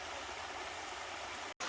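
Creek water flowing over rocks makes a steady, close rushing babble with no voices, cut by a brief dropout near the end before the flow resumes.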